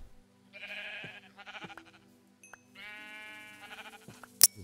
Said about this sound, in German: Schafe schlachte ich auf jeden Fall auch noch ab.